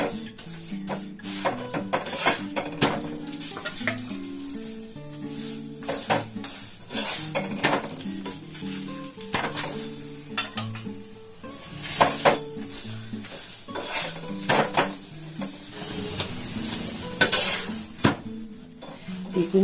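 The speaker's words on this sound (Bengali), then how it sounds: "এখন দিয়ে দিলাম তাওয়ার মধ্যে, সেঁকে নেব" Two three-layer parathas cook on a hot tawa, with repeated metallic scraping and tapping of a spatula against the pan over a faint, steady sizzle.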